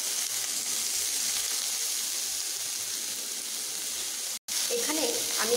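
Potatoes, pointed gourd and papaya fry together with a steady, even hiss and sizzle, broken by a brief dropout near the end and followed by faint clinks.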